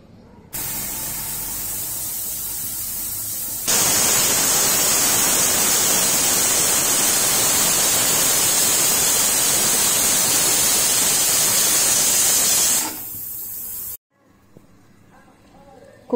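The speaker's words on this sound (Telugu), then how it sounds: "మూత పెట్టుకుని మీడియం మంట మీద 3 నుంచి 5 విజిల్స్ రానివ్వాలి" A pressure cooker with sorrel-leaf dal on a medium flame lets off a loud, continuous hissing whistle of escaping steam, starting with a softer hiss, then surging to full force for about nine seconds before cutting off abruptly.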